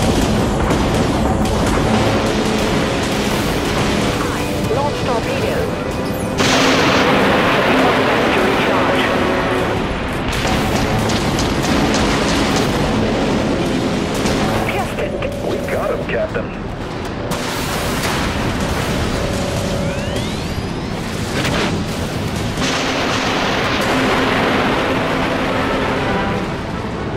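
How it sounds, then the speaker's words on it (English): Torpedoes launch and explode in the naval combat video game Dreadnought, with deep booms and rumbling blasts layered over continuous battle noise while voices speak throughout. "Launch torpedoes."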